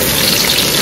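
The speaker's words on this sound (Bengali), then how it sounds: "পেঁয়াজ ভাজা, লঙ্কা ভাজা।" A steady, dense sizzle of onions frying in hot oil, close and loud throughout with no voices.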